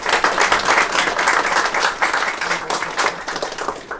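Sustained, dense applause fills a library reading room, many hands clapping continuously at close range with no pauses, the crowd's clapping steady and loud throughout.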